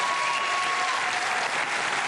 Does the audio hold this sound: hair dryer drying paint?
no